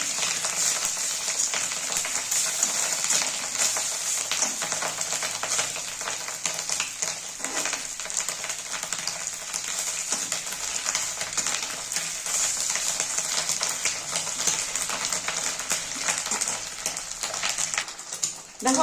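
Fish roe pieces fry in hot oil in a Bengali home kitchen, a dense, loud, continuous sizzle and crackle throughout, with faint spatula movements as they are turned.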